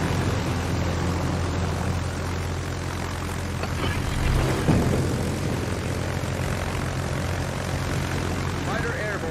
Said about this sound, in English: Fighter airborne. Fighter airborne.